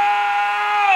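A person gives a loud, sustained bleating scream in imitation of the Ozark Howler, a single drawn-out wavering cry lasting about a second, close to the microphone.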